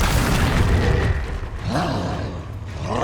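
A Confringo blasting spell bursts in Hogwarts Legacy, a deep booming explosion with a rumbling low tail that fades, then a smaller second burst near the end amid dense game noise.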